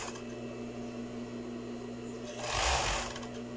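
A sewing machine stitching lace for a top hums steadily, then surges into a louder, fast whirring run of stitches for about half a second before settling back.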